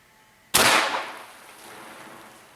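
A BinTac M50 crossbow fires an arrow into a target, one sharp loud crack with a hard impact, then a fading ringing decay in a quiet space.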